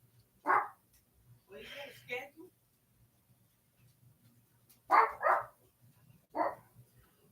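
Dogs bark indoors in a house in several separate bursts: single sharp barks and a short run of barks, spaced out with near-silent gaps between them.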